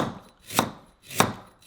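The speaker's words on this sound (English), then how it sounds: "Slice it very thin. It'll be easier. A little bit of galangal here." A knife slices galangal thinly on a cutting board for a northern Thai pork curry: two crisp, close chops about half a second apart, each with a sharp bright strike and no voices.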